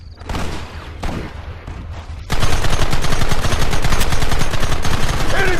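Gunfire in Red Dead Redemption: scattered shots at first, then a dense, loud, sustained volley of rapid overlapping gunshots from many shooters.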